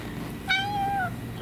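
A pet cat named Bella lets out a single clear, drawn-out meow, fairly close and alone over quiet room tone.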